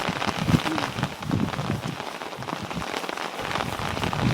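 Steady rain patters on a surface, a continuous close hiss with scattered drops and no voices.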